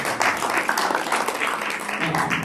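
Audience applause at a community information meeting on ICE protocol, a steady broadband patter of many hands clapping throughout, fairly close and continuous.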